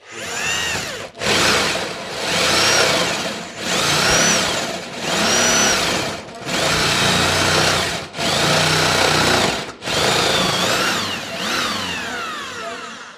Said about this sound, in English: This is how a metal hole saw works.